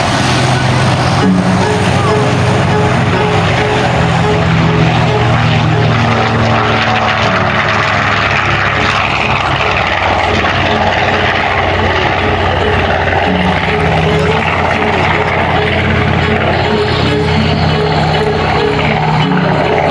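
A B-25 Mitchell bomber with two Wright R2600 Twin Cyclone radial engines drones loudly and steadily at an airshow in Beaufort, South Carolina, its propeller roar constant throughout, with a voice talking over it.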